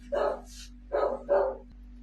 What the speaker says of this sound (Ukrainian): Чого ти там гавкаєш?